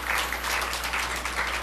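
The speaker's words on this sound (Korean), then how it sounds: "우리 학생들 위해서도 격려와 축복의 박수 한번 해주시길 바랍니다" A church congregation at a New Year's Eve service claps in encouragement for the students, a steady, moderately faint patter of many hands over a low constant hum.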